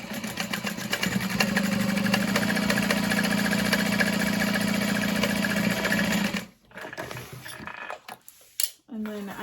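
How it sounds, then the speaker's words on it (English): A sewing machine runs steadily for about six seconds, top-stitching the bottom seam of a Gunther bag with a close, even mechanical whir. It then stops, leaving a few soft handling sounds and brief bumps. "I'm going to top stitch that down just like we did on the exterior."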